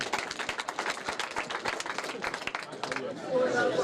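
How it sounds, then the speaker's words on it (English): Crowd applause at a youth leadership election announcement, a dense run of rapid claps and cheers lasting several seconds before fading under a nearby voice. "Please a round of applause."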